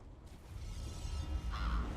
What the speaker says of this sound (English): The crows are here to help.